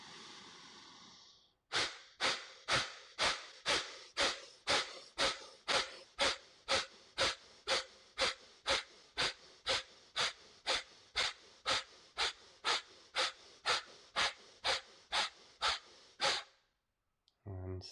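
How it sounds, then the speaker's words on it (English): Deep pranayama breathing during a guided meditation session, about thirty forceful, evenly spaced breaths in a steady rapid rhythm, close and loud, with no talking over it. "Fourth round, deep inhale,"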